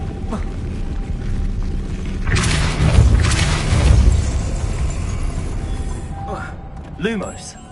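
A Depulso spell cast in Hogwarts Legacy, a deep booming burst swelling and rumbling for a couple of seconds, with a smaller thump near the end.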